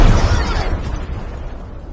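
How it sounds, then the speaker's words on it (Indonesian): Missile exploding in the sky in the Minions animated film: a loud, deep boom bursts at the start and rolls off into a fading rumble, with no speech. "Rudal pun meledak di atas langit."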